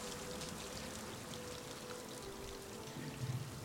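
Rain falling in the video game Rime, a dense, even hiss of drops that holds steady at moderate volume throughout with no voices.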